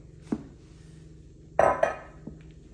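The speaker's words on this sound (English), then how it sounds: "we're going to fold those whites right back into this bowl" Spoon or spatula clinks against a bowl while beaten egg whites are folded into aebleskiver pancake batter, a few sharp knocks with quiet gaps between them, close and fairly loud.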